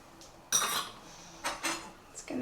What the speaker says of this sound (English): It's going to keep giving it another stir just until the sugar is nicely dissolved